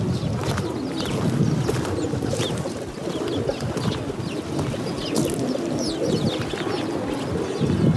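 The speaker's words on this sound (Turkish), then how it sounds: "Güvercinler de burada." Pigeons coo in Pigeon Valley, Cappadocia, faint and soft beneath steady outdoor wind rumble.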